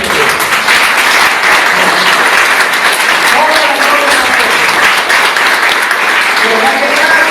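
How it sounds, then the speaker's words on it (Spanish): Sustained applause from a church congregation, dense and steady clapping filling the whole stretch with a few voices mixed in. "Dale ese aplauso a Dios."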